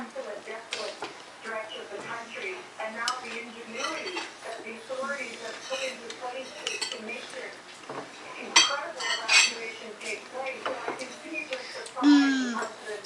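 Spoon scraping and clinking against a bowl of whipped cream, with irregular light taps and scrapes close by, mixed in with a child and an adult talking.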